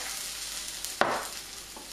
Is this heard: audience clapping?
no